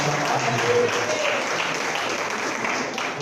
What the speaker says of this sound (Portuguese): As palmas glorificam e exaltam.